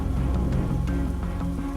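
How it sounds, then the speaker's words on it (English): Heavy rain pours down with wind in an animated film, a dense continuous patter of drops hitting surfaces, loud and steady with no voices. "Through the howling winds and the pouring rain"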